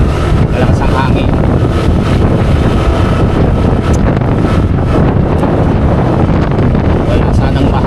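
Strong wind roars steadily during heavy rain on a trip back to Navotas, a dense, continuous broadband rush with buffeting against the microphone that persists unbroken throughout.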